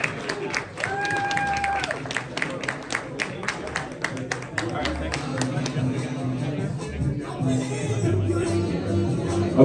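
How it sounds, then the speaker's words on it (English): Audience applause at a New Jersey Libertarian Party presidential forum, a crowd clapping steadily with sharp individual claps, a short musical tone near the start, and background chatter throughout. "please give our candidates a round of applause"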